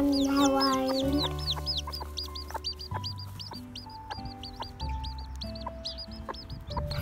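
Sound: hen clucking

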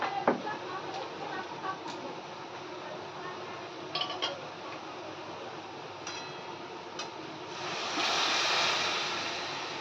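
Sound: hot water poured into cooking pan

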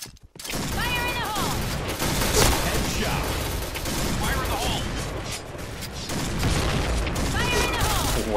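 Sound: Famas G2 rifle gunfire in Point Blank video game

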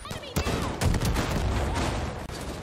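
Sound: RPG shot in video game Far Cry New Dawn

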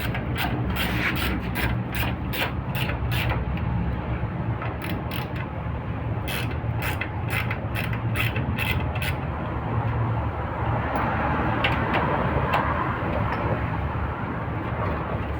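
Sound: mechanic removing wheel of Chevrolet Aveo with tools

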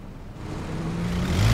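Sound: motorcycle engine in video game PUBG

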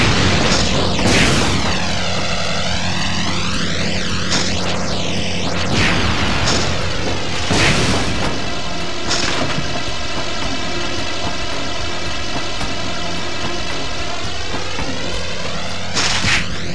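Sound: out-of-control plane in Spider-Man 2 video game

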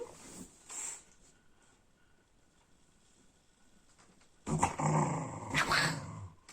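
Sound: dog growling

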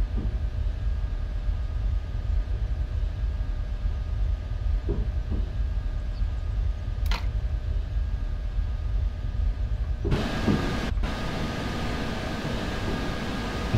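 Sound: electric train EN62 arriving at platform in MaSzyna train simulator video game

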